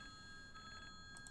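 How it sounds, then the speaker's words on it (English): Faint electronic phone ring in two short bursts, the second pair of chirps sharper, over a steady quiet background hum during a Simrail train-simulator session. "I have a phone call. I need to answer that"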